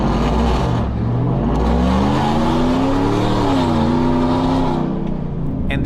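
A supercharged Chevrolet Silverado pickup truck races around a course, its engine loud and close as it revs up, holds a rising pitch and shifts, with the roar steady throughout.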